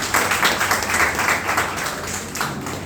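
Audience applauding at a Hindi poetry gathering, a kavi sammelan held at Hindi Bhawan in Delhi; a steady, dense wash of clapping from many hands carries through the whole stretch without anyone speaking.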